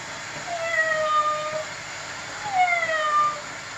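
A voice imitates a cat, giving two drawn-out, sliding meows a couple of seconds apart, moderately loud against a quiet background.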